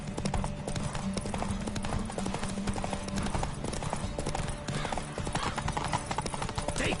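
A video game horse gallops at full pace, fast rhythmic hoofbeats pounding close and loud for the whole stretch over wind and ambient noise, without any talking.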